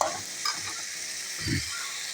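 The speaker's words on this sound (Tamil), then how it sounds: "இந்த பாவக்காயவும் நம்ம என்ன பண்ணுறோம், ஆட் பண்ணி நல்லா வதக்குறோம்" Bitter gourd sautés in a hot pan for a mini kootu, giving a steady close sizzle with a louder scraping stir burst midway and no talking.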